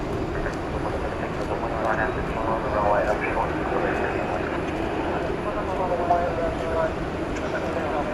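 A FedEx Boeing 757 passes at night at DFW Airport, its engines making a steady, broad rumble and whine that swells slightly midway, with a voice talking over it.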